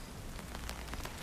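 Rain falls steadily in a soft, even patter on surfaces, faint and continuous, with a few slightly louder drops standing out through the short stretch.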